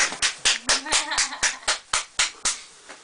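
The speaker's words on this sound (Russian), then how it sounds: "Давайте аплодисменты." A small group claps for Kerch: about a dozen sharp, fairly close hand claps in an uneven rhythm over three seconds, with a brief voice murmuring underneath.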